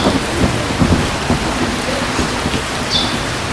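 Steady rain falls during a thunderstorm, with a low rumble of thunder underneath the continuous patter, close and fairly loud.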